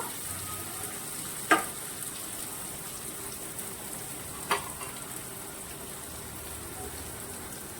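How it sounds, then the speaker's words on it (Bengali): Onions fry in a pan, a soft steady sizzle close by with two brief sharp clinks of a utensil against the pan. "ভালো করে লাল লাল করে পেঁয়াজটা কিছুক্ষণ ধরে ভেজে নেব।"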